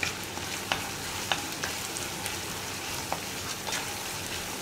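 Onions sautéing over a high flame for aloo gobi, giving a steady, moderate crackling sizzle broken by several sharp clacks of a utensil against the pan, close and without voices.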